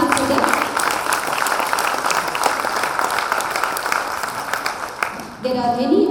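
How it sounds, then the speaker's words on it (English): A school graduation day audience applauds and cheers for the staff, with dense, continuous clapping filling the hall at steady volume before it drops away briefly near the end. "They do deserve a big round of applause and cheer."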